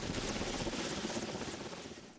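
Sri Lanka Air Force helicopter in flight: a dense, steady roar of rotor and engine noise filling the whole clip, loud and continuous with no voices.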